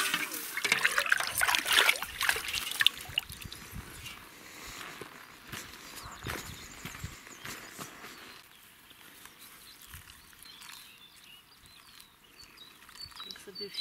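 Water pours and splashes onto garden soil to soak it for planting, loud at first, then easing into a quieter trickle, with birds chirping outdoors and a person talking.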